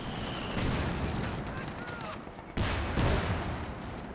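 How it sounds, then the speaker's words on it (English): Quad machine gun halftrack firing in the Company of Heroes 2 strategy game, bursts of rapid gunfire mixed with battle noise and explosions, with someone talking over the action. "Quad firing away"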